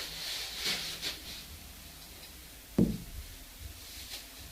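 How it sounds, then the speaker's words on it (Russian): A few scattered knocks inside an apartment, fairly faint against room hiss, with one firmer thud near the middle and another at the very end. "Вот слышен был стук"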